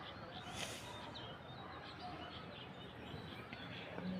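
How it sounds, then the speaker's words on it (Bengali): Birds chirp and twitter in the early morning around a sunlit home balcony with flowering plants: scattered short high calls over a steady, soft outdoor hum, moderately distant and without any talking. "চারিদিকে পাখির কিচিমিচির ডাক"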